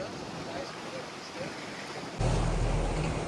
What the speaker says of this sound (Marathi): पाणी बघ ना कसं भारी येतं त्याच्यातून.